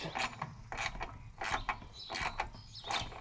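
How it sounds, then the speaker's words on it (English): Cheap imported fasteners are tightened on farm pump equipment, giving a series of close, rhythmic ratcheting clicks in about six evenly spaced bursts, with no talking. "Make sure you over tighten the Chinesium fasteners"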